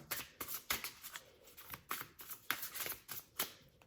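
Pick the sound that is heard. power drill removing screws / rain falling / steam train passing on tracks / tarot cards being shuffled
tarot cards being shuffled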